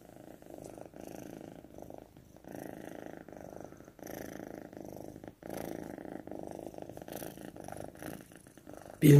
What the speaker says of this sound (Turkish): Bu da kedi hırlaması. Mutlu oldukları zaman çıkarıyorlar bu sesi.